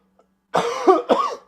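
Two harsh coughs close to the mic, one right after the other, after a brief silence.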